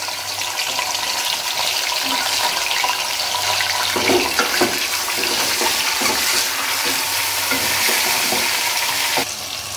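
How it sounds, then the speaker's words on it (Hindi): Chicken pieces frying in green masala for biryani, a steady loud sizzle with intermittent scraping and stirring clatter throughout, no voices. "चिकन शामिल कर देना है। और इसको भूनना है।"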